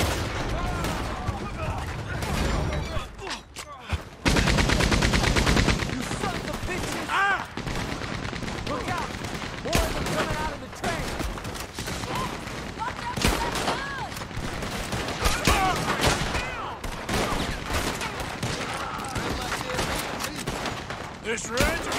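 Machine gun fire in Red Dead Redemption 2, dense bursts of rapid shots mixed with heavy booms and scattered rifle cracks, loud and sustained throughout, with shouting voices in the chaos.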